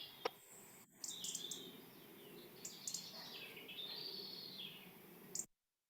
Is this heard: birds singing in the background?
yes